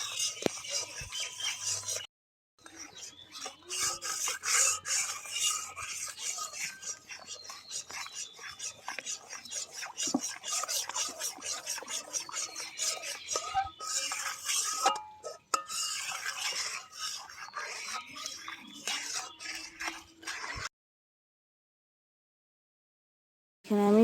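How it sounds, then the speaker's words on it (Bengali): Strained sour yogurt being beaten in a bowl for homemade sweet curd, a steady run of close scraping and stirring clinks that continues without a break for about twenty seconds and then stops short. "টক দইটাকে যত ফাটাবে তত তোমার দইটা খুব সুন্দর হবে"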